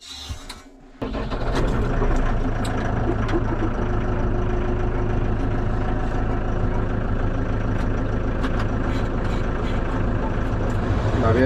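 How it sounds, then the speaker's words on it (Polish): A vehicle engine is started on a frosty early morning on a farm: after a brief quiet moment it catches abruptly and settles into a loud, steady idle that runs on without pause. "włączyć silnik i niech pochodzi."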